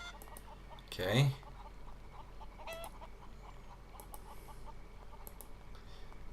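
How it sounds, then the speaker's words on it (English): Chickens in the video game Haunted give a short burst of loud, close clucking, then the scene runs on under steady game ambience with faint scattered sounds, and a voice speaks briefly. "I don't need to clear these chickens out of the way."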